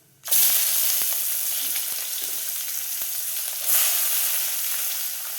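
Whole cumin seeds and chopped onion hit hot oil with a sudden loud sizzle that settles into steady frying, with a second surge of hiss partway through, close and with no talk.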